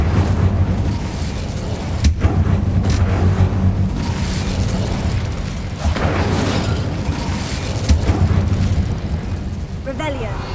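Incendio fire spell cast in Hogwarts Legacy, a loud roaring burst of flame with booming eruptions and crackle layered over continuous game noise, with sharp transient peaks near two and eight seconds and a voice speaking underneath.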